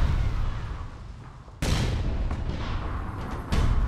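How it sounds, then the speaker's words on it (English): Gunfire in the APB Reloaded online shooter, a heavy rumbling burst followed by two sharp loud shots, one around the middle and one near the end, no talk. "I'm shooting as soon as you're around the corner"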